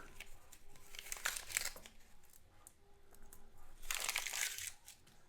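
Paper wrapper on a roll of pennies crinkles and then rips open in two quick tearing bursts, close and fairly quiet, with no talking.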